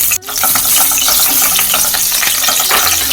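Cinnamon, cardamom pods and curry leaves frying in hot oil for a fish molly curry, a steady close crackling sizzle that carries on throughout after a brief pause at the start.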